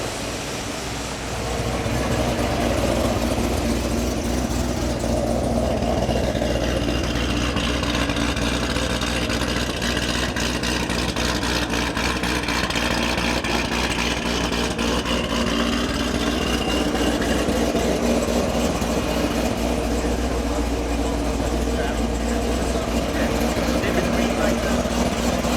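A car transporter truck sits idling, its engine a steady low rumble that runs for the whole stretch, with voices talking over it.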